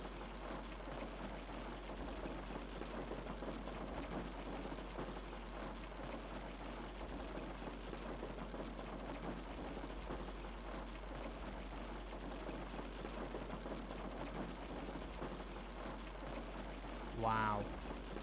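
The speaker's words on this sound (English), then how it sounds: "listen to the sound of that rain for a second" Steady rain falls in the Farming Simulator 25 video game, a continuous even hiss and patter with a low hum underneath, ending in a brief rising tone.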